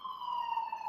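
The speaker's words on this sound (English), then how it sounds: "Sirens, sorry, sirens." A siren wails steadily throughout, a single sustained tone with faint upper harmonics at moderate, even loudness, with no talking over it.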